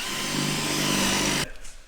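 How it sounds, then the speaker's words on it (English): A power drill whines loudly and steadily, biting into aluminium to drill out spot welds on a Tesla van for over a second before cutting off abruptly, leaving a quiet room tone. "we're basically going to drill these out"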